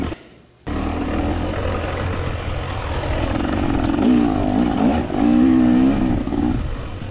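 A dirt bike engine labouring through a hill scramble, loud and close, revving and shifting with rising and falling pitch, gritty and continuous after a brief quiet start.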